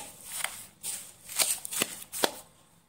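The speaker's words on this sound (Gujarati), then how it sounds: "તો આ મિક્સચરને સરસ એવું આપણે મિક્સ કરી લેવાનું છે." A spoon scrapes and stirs a thick ladoo mixture of jaggery, gond and nuts in a few short, close, rustling strokes at a quiet level.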